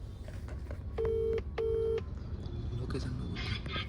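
A phone placing a call gives two long, even tones, each about half a second with a short gap, over light outdoor roadside background noise.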